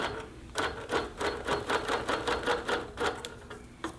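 A sewing machine stitching a quilt top for basting, running in a steady rhythmic chatter of quick pulses, close and clear.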